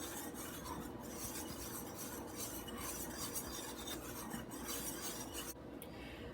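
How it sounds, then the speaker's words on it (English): Dry biscuit ingredients, including garlic powder and white sugar, being whisked in a bowl for Southern drop cheese biscuits: a steady, continuous scraping and rasping that runs close and unbroken, with no talk over it. "Going to give that a quick whisk."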